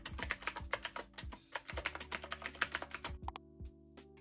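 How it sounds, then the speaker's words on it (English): Typing on a Nuki typewriter-style keyboard with round retro keys, a quick run of sharp, close clacky keystrokes in an uneven rhythm, then a short pause and a few last taps. "This Nuki typewriter keyboard is another favorite of mine just for the typewriter design alone. It's really fun to use"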